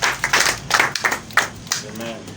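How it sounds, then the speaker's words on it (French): Church congregation claps for a woman about to give her testimony, a few uneven bursts of hand claps with voices talking over and between them. "Applaudissez à elle."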